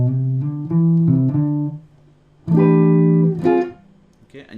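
Slow minor 11th chord stabs on guitar, two groups of ringing chords with a longer first stab and a shorter second, close and clear with silence between.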